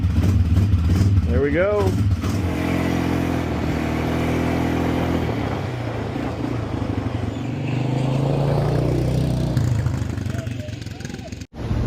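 An Arctic Cat 250 ATV engine cranks and catches with the choke on after a battery change, then idles loudly and steadily up close, with a short comment spoken over it and a sudden cut at the end.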